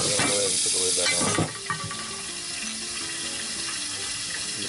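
Lamb stew vegetables browning in a Dutch oven: a brief burst of clattering stirring, then a soft, even sizzle that carries on quietly to the end.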